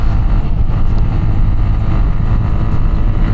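A Bajaj Platina 110 motorcycle carrying a pillion roars at 70 to 80 km/h, a loud, steady engine drone mixed with heavy wind rush buffeting the microphone.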